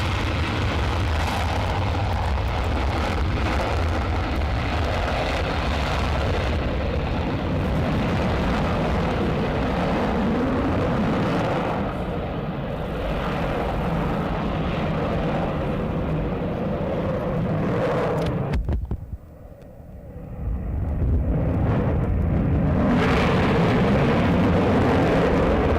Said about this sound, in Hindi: राफेल फाइटर प्लेन पहले बैच ने फ्रांस से उड़ान भरी है